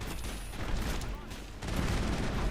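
Scattered gunfire crackles through a Mass Effect firefight, a steady rumble of distant and nearby shots with a louder burst near the end, while a voice talks faintly underneath.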